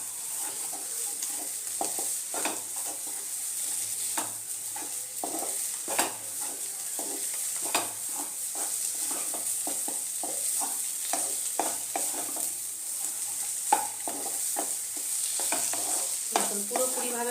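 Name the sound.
bean paste with coriander frying and stirring in a pan on high flame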